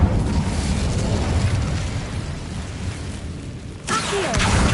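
Incendio fire spell cast in Hogwarts Legacy on PS5, a loud sustained roaring blast of rushing fire that fills the whole clip, briefly dipping before a fresh burst flares up near the end.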